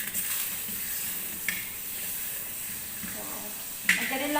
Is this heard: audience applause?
no